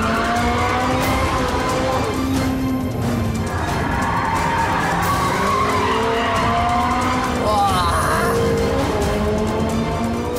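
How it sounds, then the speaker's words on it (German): Tires squeal and skid loudly as a Ferrari race car drifts hard through tight corners on a racing circuit, with sustained screeching and engine noise rising and falling over about ten seconds, alone without voices. "Wieder etwas zu sehr gedriftet und der Ferrari ist dran."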